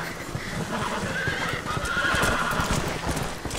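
In the video game Red Dead Redemption, a horse whinnies over steady hoof clip-clop, loud and close, with the galloping rhythm continuing under the neigh.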